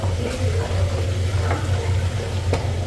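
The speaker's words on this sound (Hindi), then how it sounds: "यहाँ जब पायों को तड़का लगा रहे हैं अम्मी की रेसिपी से।" Goat trotters (paaye) being tempered in hot oil give off a steady, close sizzle and crackle over a low hum, with a few sharper pops.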